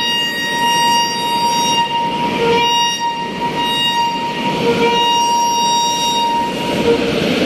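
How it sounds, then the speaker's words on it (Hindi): The Netaji Express passenger train rolls into a platform at an Indian station, a loud continuous rumble with a sustained high horn tone throughout and faint station bustle. "तो ये आ गई अपनी नेताजी एक्सप्रेस"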